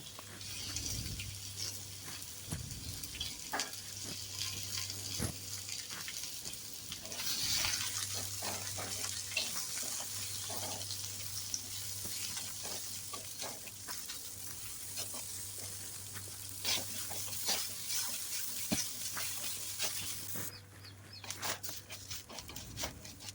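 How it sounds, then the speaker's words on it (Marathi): Sliced onion frying in oil on a hot pan for a Konkani dried prawn curry: a steady, close sizzle and crackle runs throughout, with occasional scraping stirs and no talking. "त्यात थोडं तेल टाकून उभा चिरलेला कांदा गुलाबी होईपर्यंत भाजून घेऊयात"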